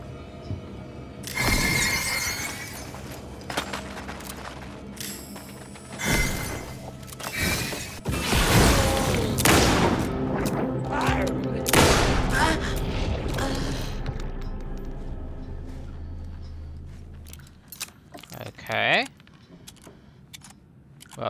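Propane tank blast in the video game Alan Wake 2: several sharp crashing bursts and shattering debris rattle through the scene, followed by metallic clanks and quieter clatter, with brief talk in between.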